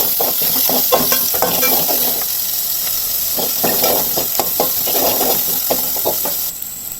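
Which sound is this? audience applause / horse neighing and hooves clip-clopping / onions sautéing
onions sautéing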